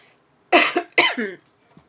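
Two sharp throat-clearing coughs in quick succession, close and clear, followed by quiet.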